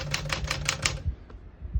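A 1959 Smith-Corona Sterling portable typewriter is typed on, giving about six quick crisp key strikes in even rhythm followed by softer mechanical clunks, close and clear with no talk.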